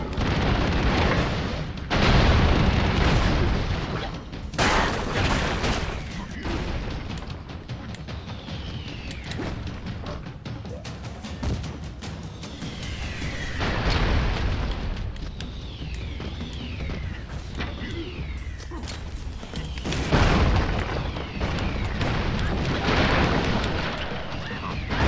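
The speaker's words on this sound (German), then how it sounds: "Ich will wissen, wer uns hier beschießt die ganze Zeit." Heavy gunfire and explosions in the side-scrolling video game Broforce, with dense bursts of shots and booming blasts running continuously through a chaotic war-zone battle, with a few louder peaks and someone speaking over parts of it.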